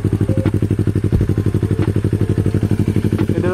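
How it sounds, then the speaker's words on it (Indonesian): A Yamaha R25 motorcycle fitted with a Kazen Proexhaust DENT 33SS exhaust idles close by, a steady rapid burbling thrum with regular pulses and no talk over it. "suara knalpotnya seperti ini ya kawan-kawan ya"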